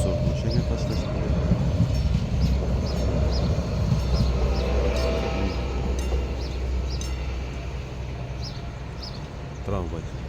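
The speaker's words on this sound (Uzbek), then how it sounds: "Tramvay. Zamonaviy." A modern tram rolls past in a small town near Zagreb, Croatia, a steady loud rumble of wheels on rails with a brief squeal near the end, as someone talks over it.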